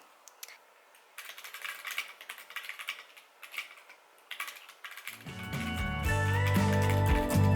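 Quick, irregular clicks of keys being typed on a MacBook keyboard, close by, before music starts playing over the tapping.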